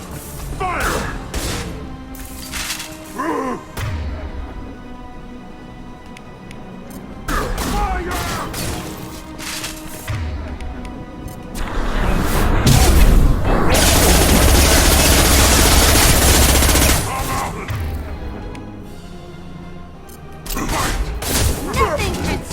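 Gunfire in Mass Effect 2 during a prison firefight: sharp volleys and rapid automatic bursts with booming impacts, building to a long, dense barrage mid-way before dropping back to scattered shots.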